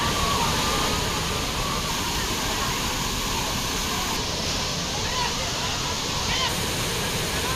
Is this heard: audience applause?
no